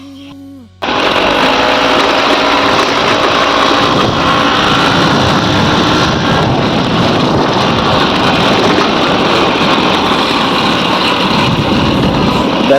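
An Excel Super 100 motorbike engine runs steadily while riding, a loud continuous rumble mixed with heavy wind buffeting on the microphone after a brief quiet start.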